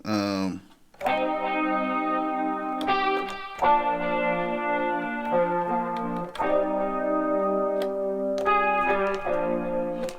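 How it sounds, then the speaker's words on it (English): Clean electric guitar from a software instrument in FL Studio FLEX plays a melodic line of sustained chords and notes with a chorus-like shimmer, steady and close, no voices. "I have a guitar in here right now. It sounds like this."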